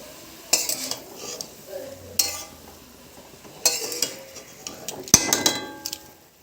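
Greens with onion and chillies stirred in a pan, a series of loud metallic scrapes and clanks from the spoon against the pan in irregular bursts, with a soft sizzle and quiet gaps between.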